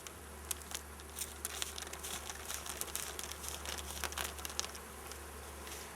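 Steady insect buzzing from many honeybees close by at an open hive, with crackly rustling and intermittent sharp ticks over a low constant hum; no voices.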